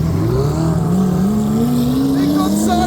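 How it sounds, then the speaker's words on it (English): A Lamborghini Aventador engine drones and revs loudly, its pitch climbing steadily over a few seconds with a strong, continuous rumble. "The sound of an Aventador revving is what I would normally run for."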